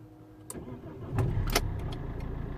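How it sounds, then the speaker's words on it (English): A 2007 Alfa Romeo 159 1.9 JTDM diesel with a limp-mode fault cranks and fires up, a few sharp clicks followed by the engine catching and settling into a rough, steady idle close by. "It's starting much better."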